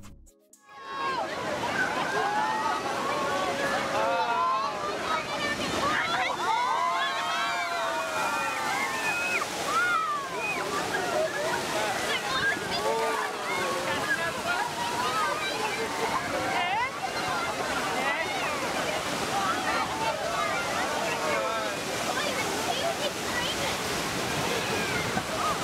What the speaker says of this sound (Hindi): ये सामान्य लहरें बिल्कुल नहीं है